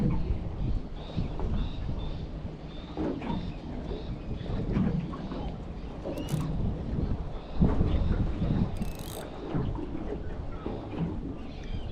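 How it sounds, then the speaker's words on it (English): Wind buffets a fishing boat on the Hawkesbury River, a steady rumbling roar against the microphone with gusty swells and faint higher sounds on top. "Can confirm wind has picked up already."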